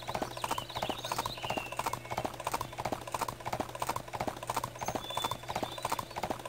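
Horse hooves clopping across a bridge in the Barbie Riding Club video game: a loud, steady, rapid clip-clop rhythm continuing throughout, with faint game sounds beneath.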